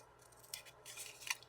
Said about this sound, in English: use my fancy scissors to give a little bit of detail